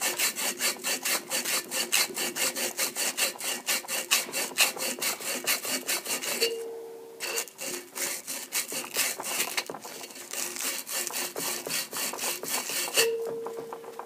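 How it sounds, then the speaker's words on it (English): Steady, rhythmic back-and-forth abrasive sanding on a part for a homemade vacuum pump, loud and close, pausing briefly midway and again near the end. "or sand this a little bit"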